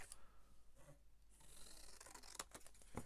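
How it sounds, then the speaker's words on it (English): Tim Holtz scissors cut paper in quiet, close rasping snips, with a few sharper clicks of the blades near the end. "So just get my Tim Holtz scissors out. And I'm just going to cut it there."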